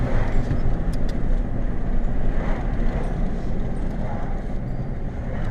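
A Chevrolet Silverado fitted with a Gibson cat-back exhaust runs with a deep, continuous low rumble, loud and close, with a faint rattling texture over the steady drone.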